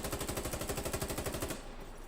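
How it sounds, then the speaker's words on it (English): A rapid burst of automatic gunfire in the video game Insurgency: Sandstorm rattles in a steady fast rhythm for over a second, then cuts off, leaving an echo rolling off distant hills that fades away. "gunfire doesn't just have simple reverb or echo, but the sounds actually roll off of distant hills"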